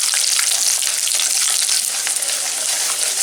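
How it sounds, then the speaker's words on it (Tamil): Mustard seeds, urad dal, peanuts and curry leaves frying in oil in a kadai, making a loud, dense, steady sizzle with fine crackles that hold for the whole short stretch, with no talk. "ஒரு கடாயில் எண்ணெய் ஊற்றி அது கூட கடுகு, உளுந்தம்பருப்பு, நிலக்கடலை, கருவேப்பிலை சேர்த்துருக்கேன்"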